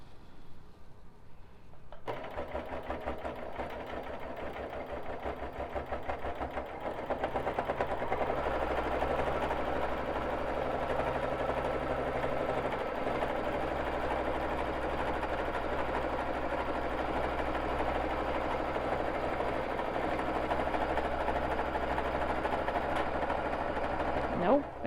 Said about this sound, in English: I'm going to put a couple little lock stitches in, especially, and go back over that area that other thread broke on.